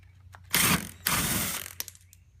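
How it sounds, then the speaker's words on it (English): An impact wrench with an 8mm socket buzzes in two short bursts, loosening bolts on a BMW X1 E84 during bumper removal, close and loud with small metallic clicks between. "I'm just going to use my impact here with an 8mm, and I'm just going to power those out real quick."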